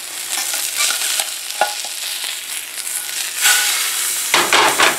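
A salmon fillet sears in a hot pan with a dense, continuous sizzle and crackle, a few light knocks, and a louder burst of spitting near the end, heard alone without talk.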